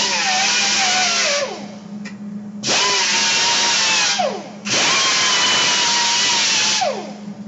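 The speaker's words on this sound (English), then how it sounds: "then we'll grind right on the holes and right where we're going to be welding" A handheld power grinder strips paint from sheet metal around drilled holes before welding, running loud and close in three long bursts with brief drops in pitch as the disc spins down between passes.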